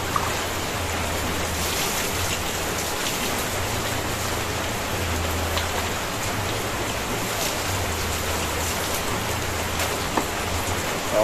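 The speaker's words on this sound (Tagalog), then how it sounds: "Umuulan." Steady rain patters densely on surfaces, with a low intermittent hum beneath it and no voices.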